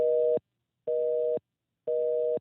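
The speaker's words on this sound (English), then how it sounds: "his mobile, is giving a busy signal" A mobile phone line returns a busy signal: three evenly spaced steady electronic tones, each about half a second long, separated by equal silences, loud and clean with no voices.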